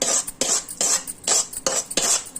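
Mustard tempering stirred into an amla mixture, a spoon scraping a vessel in quick repeated strokes, about six rhythmic swishes close by.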